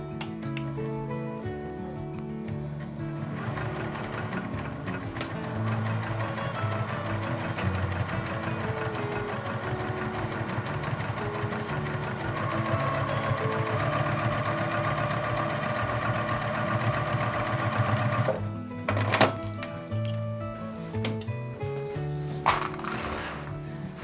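A sewing machine stitches a fabric caddy seam inside its lining, back stitching at the start and end: a steady, close mechanical whir with rapid ticking, running continuously with a brief change near the end.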